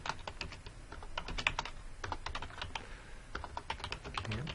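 Rapid typing on a computer keyboard while entering an office address, with dense, steady key clicks in quick irregular bursts, close and clear throughout, with no talking.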